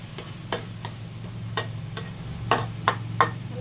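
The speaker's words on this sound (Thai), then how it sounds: "ผัดให้น้ำตาลละลายก่อน" Chili paste stir-fried in a pan with sugar melting, giving a faint, steady sizzle under a low kitchen hum, with several soft scrape-and-tap strokes of the spatula spaced irregularly.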